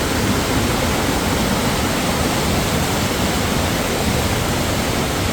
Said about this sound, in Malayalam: ബ്രഹ്മഗിരി നിരകളിൽ നിന്ന് ഇത് സ്റ്റാർട്ട് ചെയ്തിട്ട് പാറക്കെട്ടുകളുടെ ഇടക്കൂടെയൊക്കെ വളഞ്ഞ് ഒഴുകി അത് താഴെ എത്തും